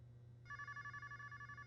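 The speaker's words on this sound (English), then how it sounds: "Another phone call?" Telephone ringing in the video game Blackhaven, a shrill electronic bell pulsing in rapid trills over a low steady hum, alone and fairly close.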